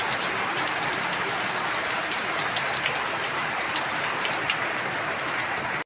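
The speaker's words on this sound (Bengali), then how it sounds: "আরও জোরে বৃষ্টি আসছে" Heavy downpour of rain falling in sheets, a dense continuous hiss of drops pounding surfaces, loud and steady with no voices.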